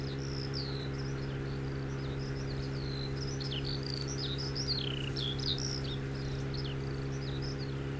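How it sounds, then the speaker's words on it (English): Birds chirp in Farming Simulator 17 on the FSH Modding Map, with repeated short, bright calls scattered steadily over a constant low, humming ambient drone throughout. "I don't know if the birds chirping is coming through or not, but there's a fair bit of ambient sounds"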